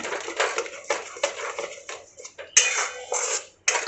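A spice mixture of Kashmiri chilli powder and salt is stirred in a pan, giving repeated close scraping and clattering strokes of a utensil on metal with brief pauses, no voices.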